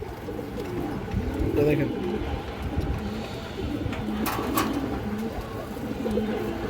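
Pigeons coo in low, murmuring bursts throughout at a pigeon market, steady and fairly close, with someone talking over them.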